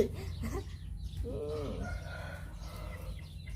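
A chicken clucks nearby in a short burst of rising and falling calls against steady low background noise, with voices around it.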